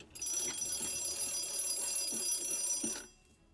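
A new phone rings with a bright, steady electronic trill that holds unbroken for about three seconds and then stops abruptly, heard fairly close and alone in a quiet room.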